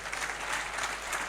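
Audience applause at a TV talk show, a brief, dense burst of clapping from a studio crowd at moderate volume.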